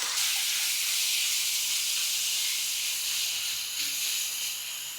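A steady, loud hiss of oil spattering in a hot pan as marinated chicken fries continues throughout, with slight swells but no pauses.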